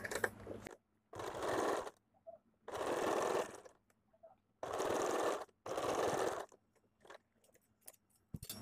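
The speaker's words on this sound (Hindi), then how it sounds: "थोड़ा सा अंदर की तरफ से ये सिलाई देना है" A sewing machine stitches a princess cut blouse in four short, loud bursts of about a second each, separated by quiet pauses with faint handling clicks.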